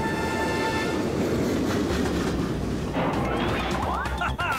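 Train sounds in the video game Mario Party 8 on the Shy Guy's Perplex Express board: a dense, steady rumble of moving rail cars with rattling and scraping layered in, plus brief squealing tones near the end.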